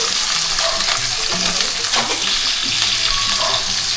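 Chicken skin fries in a pan as its fat renders out, giving a loud, continuous close sizzle with light crackles and occasional stirring scrapes, and no talking.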